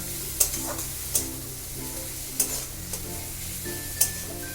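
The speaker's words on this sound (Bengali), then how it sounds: "দিয়ে এটাকে আমি একটু ভালো করে মিশিয়ে নেব।" Spices, salt and turmeric get stirred in a hot pan for a bean bharta, with a steady sizzle under five or six sharp spatula clinks spaced about a second apart.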